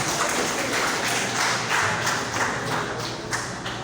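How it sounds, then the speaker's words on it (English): Indoor audience applause at the opening of an art festival in Davao, a dense, steady wash of clapping hands held at moderate level throughout, with no voices over it. "So let's give Art and Daphne a big round of applause."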